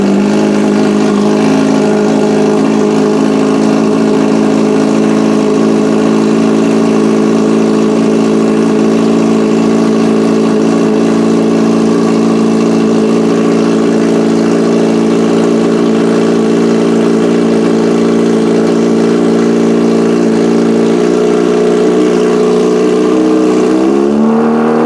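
A Kawasaki ZH2 motorcycle engine fitted with performance shift lights runs loud and close at a steady low-RPM idle, then blips upward briefly near the end before cutting off.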